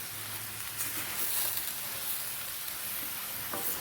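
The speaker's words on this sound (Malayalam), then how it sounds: "ഒരു 5 മിനിറ്റ് നമുക്കിങ്ങനെ ഇളക്കി കൊടുക്കാം." Chicken pieces sizzle softly in a pan for a coconut-milk chicken stew, with a low, steady frying hiss and light stirring; fairly faint and without talk.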